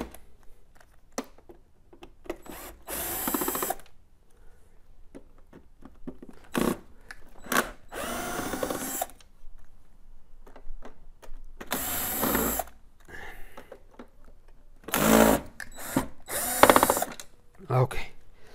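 Power drill backing screws out of a Technics SX KN-6000 electronic keyboard: several short loud whirring bursts separated by quiet gaps filled with small clicks and ratcheting handling noises, close by.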